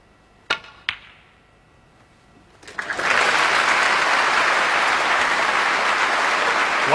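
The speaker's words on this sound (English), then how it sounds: "A generous round of applause." Snooker audience applauding at the 2008 Wembley Masters semi-final: a few sharp ball clicks first, then a sudden swell of dense, steady clapping from the arena crowd that holds to the end.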